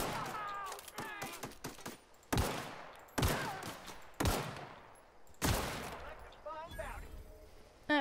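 Loud, sharp gunshots from a video game ring out in repeated single blasts and short clusters, with a scattered rapid burst early on, spaced across the stretch amid quieter game sounds.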